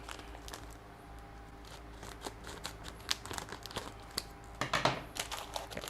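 A plastic bag of seasoning powder for fried chicken is being opened, giving quiet, close crinkling and rustling with scattered sharp ticks that grow busier toward the end, with no talk.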